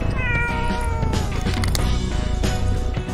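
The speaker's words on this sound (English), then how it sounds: "This kitty's gonna sleep well tonight." Cat, apparently a stray, lets out a drawn-out meow with a falling pitch, then a few fainter mews over busy background clatter, close and fairly loud, with no talking.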